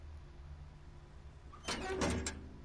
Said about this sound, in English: Now I believe I just heard a door open